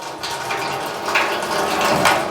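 Tap water running steadily while hands are washed before eye surgery, a close, continuous hiss with brief splashy surges as the hands move under the stream.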